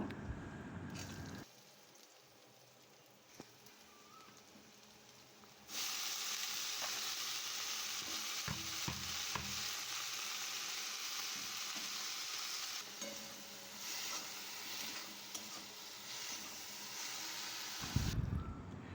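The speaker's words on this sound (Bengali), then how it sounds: "তেলে রসুন আর লঙ্কা কুচি দিয়ে দিলাম তো একটু এগুলোকে হালকা করে লাল করে ভেজে নেব" Garlic and chopped green chilli sizzle in hot oil in a kadai, browning lightly before greens go in. After a quiet start, a bright, steady frying hiss rises up close and continues with small crackles until near the end.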